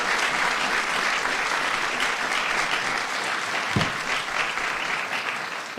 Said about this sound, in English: Let's have a round of applause for my friend Joe.